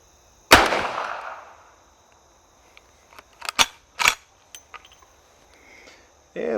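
Rifle shots at an outdoor shooting range: one sharp, loud report with a decaying echo, followed by a few fainter clicks and snaps of handling nearby.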